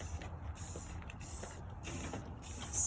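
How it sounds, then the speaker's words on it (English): Aerosol spray paint in gold and green shades hisses from a can in short bursts while hydrodipping a vase. Several separate bursts come close and steady, with short pauses between them and no talking. "spray it in a couple of spots."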